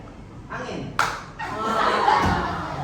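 A group of teachers plays the "tepuk angin" clapping game during a coaching session. A few soft, scattered claps come in short bursts, mixed with chuckles and murmuring voices.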